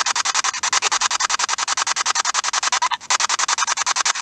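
Loud, choppy spirit box radio static in a church pulses rapidly in an even rhythm as it sweeps across stations, with one brief break partway through.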